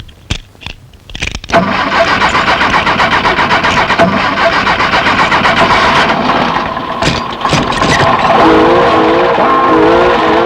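A car engine cranks briefly and then catches, settling into a loud, steady idle with a few faint clicks and rattles near the end.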